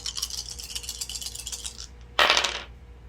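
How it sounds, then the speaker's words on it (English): Five dice rolled together during a Vampire: The Masquerade tabletop session, a short bright clatter around the two-second mark that follows a softer rattle of dice being shaken, with no talking. "So again, we get to roll all 5 dice here"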